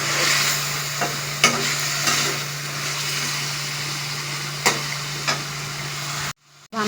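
Garam masala being stirred into a frying chicken biryani base, a steady close sizzle broken by a few sharp spoon scrapes and clinks against the pot, with a low constant hum underneath and no talking.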